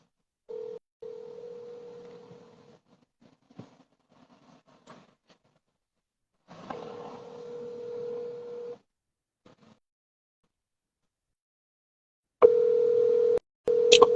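Telephone ringback tone heard while calling someone's wife: intermittent steady electronic tones in separated bursts with gaps of silence between, a louder burst near the end, no speech.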